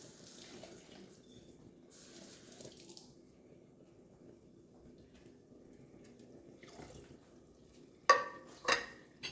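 Tap water runs faintly into a tomato can being rinsed out at a kitchen sink, a soft steady splashing that ends in a few sharp metallic clanks of the can, with no talking.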